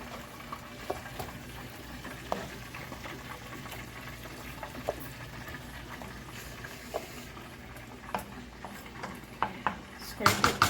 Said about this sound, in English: just combine the peas and the rice together.